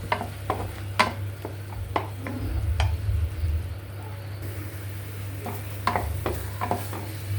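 Onion paste frying in a pan, a low steady sizzle under repeated sharp spoon taps and scrapes against the metal, close by, no talk.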